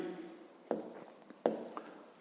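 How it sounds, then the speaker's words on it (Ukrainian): Pen or chalk writing numbers by hand during a fifth-grade maths exercise on fresh mushroom mass, a few brisk scratchy strokes with short pauses, close and fairly quiet, no voice. "Пишемо тоді третє дію"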